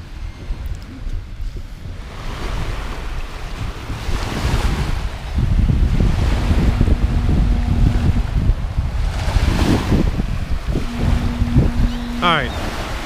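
Surf washing ashore at Progreso beach, Mexico, in December: a steady broadband rush of waves mixed with gusty wind buffeting the microphone, swelling louder midway, with a faint tonal hum and a brief chirping sound near the end.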